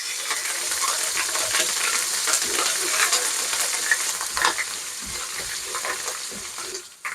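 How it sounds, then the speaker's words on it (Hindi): Cumin seeds and ginger-garlic paste fry in hot oil for vegetable biryani, giving a steady close sizzle with scattered crackles and occasional stirring scrapes throughout, no talking. "जीरे को हम सिर्फ चंद सेकंड के लिए भूनेंगे।"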